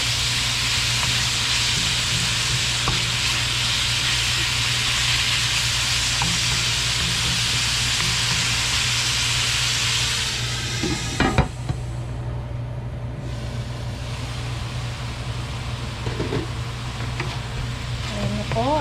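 Ground meat sizzling steadily in a hot pan for a Filipino okra and giniling dish, a loud continuous frying hiss that eases and quiets partway through after a brief clatter, then carries on more softly.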